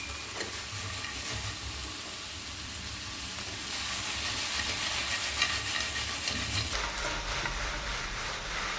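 Stir-fried chicken, veggies and roasted peanuts with chili sauce get tossed in a pan, giving a continuous close sizzle and rustle that swells in the middle and shifts near the end.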